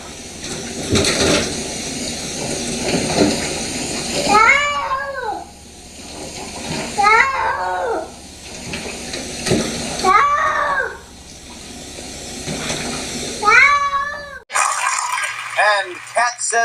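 A cat in a bathtub lets out four loud, drawn-out meows at intervals over running water and splashing, with people talking throughout.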